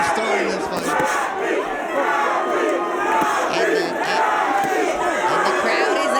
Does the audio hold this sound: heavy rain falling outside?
no